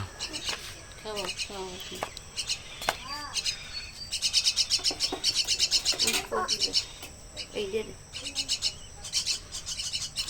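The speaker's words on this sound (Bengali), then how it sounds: "কোকিল রাগ করছে" A koel calls from close by among songbird chicks being hand-fed, sharp rising whistled notes repeated several times early on, then dense rapid chirping bursts from other birds, with faint human voices in the background.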